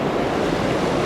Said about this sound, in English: on this day of fishing, the water was raging